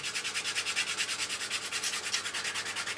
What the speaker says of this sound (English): then you sand very roughly again with rough paper, even rougher